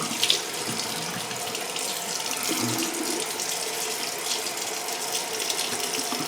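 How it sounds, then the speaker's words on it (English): A faucet runs in a bathroom sink for a quick cold-water rinse after shaving, a steady, fairly soft stream of splashing water with faint hand splashes and no talk. "I'm going to do a quick cold rinse, real quick."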